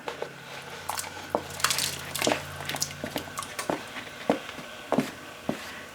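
Chunks of beef drop back into an Instant Pot for a gluten-free, dairy-free beef bourguignon, giving soft wet squishes and scattered utensil clinks against the pot over a steady low hum, fairly close and moderately loud.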